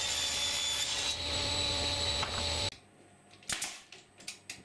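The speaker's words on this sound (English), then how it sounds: "Pieces are cut to final size on the table saw." Table saw cutting 3/4 inch MDF: a loud steady whine of the spinning blade for nearly three seconds, then it cuts off abruptly, leaving a few scattered knocks and clatters.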